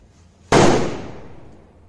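A Sunrise Hydrofoils hydro firecracker, a Diwali cracker, goes off with one sharp, loud bang that rings out and slowly fades over more than a second, after a quiet moment before it.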